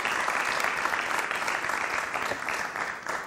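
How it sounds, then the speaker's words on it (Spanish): A studio audience breaks into applause for a quip on a Spanish talk show, dense and steady clapping from a crowd that fades slightly toward the end. "Un aplauso para la chorrada"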